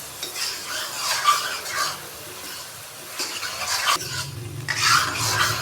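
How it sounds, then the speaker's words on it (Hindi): A utensil stirs boiled white dal mash in a frying pan on high flame, steady scraping and sizzling close up, swelling in waves and louder toward the end, with no voices. "दाल माश डालने के बाद अच्छे से मिक्स करेंगे।"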